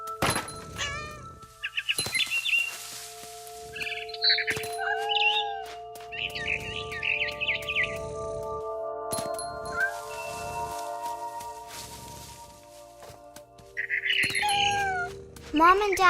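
Synthetic cat meows and chirps from the video game What Remains of Edith Finch pop up in short bursts between thuds and electronic tones, with a spoken voice in places.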